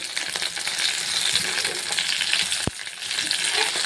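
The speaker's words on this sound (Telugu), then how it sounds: "ఇలా కొంచెం ఫ్రై చేసుకొని" Eggplant pieces fry in a pan with salt and turmeric, giving a dense, loud, close sizzle with stirring scrapes and one sharp knock near the end.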